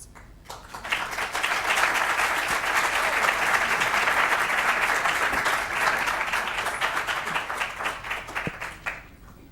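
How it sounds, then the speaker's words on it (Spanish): Applause fills a ceremony hall, rising quickly and holding steady before thinning into scattered individual claps near the end. "un nuevo aplauso"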